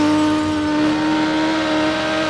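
A motorcycle in the racing game Burnout Paradise holds a loud, steady engine whine at constant pitch, sustained without a break and with no speech over it.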